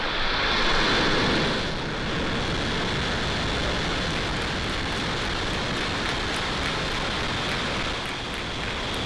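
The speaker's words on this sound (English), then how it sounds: "Ignition and liftoff." A SpaceX Falcon 9 rocket ignites and lifts off with a dense, continuous crackling roar that stays loud and steady throughout, with no voices.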